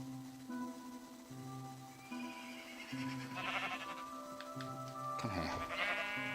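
Sheep in the Minecraft video game bleat repeatedly, several clear wavering calls spaced across the stretch over a low steady hum, growing denser and louder toward the end, with no talking.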